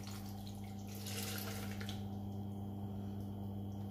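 Liquid is poured into a blender container for a smoothie, a soft, steady trickling splash heard close and fairly quiet, with a low background hum.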